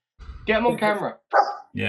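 A dog gives a few loud, close barks in quick succession while people talk excitedly around it.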